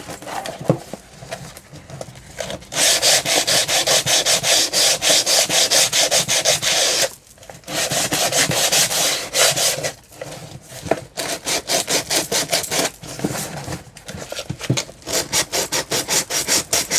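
Edges of a handmade lap book spine being scraped with rasping, scratchy strokes, close and fairly loud, coming in bursts of rapid back-and-forth scraping broken by short pauses, with no talking.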